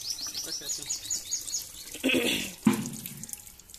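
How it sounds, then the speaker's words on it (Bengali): Water streams from a tap into a bucket at bath time, a steady wash of splashing with birds chirping faintly in the background and brief thuds near the end. "ওই জল পড়ে যাচ্ছে, কলটা বন্ধ করো"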